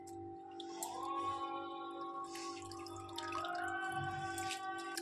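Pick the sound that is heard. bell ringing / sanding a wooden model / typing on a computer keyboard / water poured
water poured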